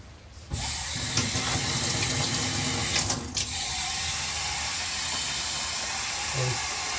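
Hot water pours steadily into the tank of a Bissell 3624 Spot Clean Professional portable carpet cleaner, a continuous hissing, splashing stream that starts abruptly and runs on at close range.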